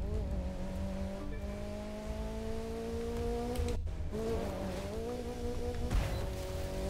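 Car engine driving fast in The Crew 2, a close, steady high-revving whine with harmonics sliding up through a gear, a brief cut and shift near the middle, then climbing again; no talking.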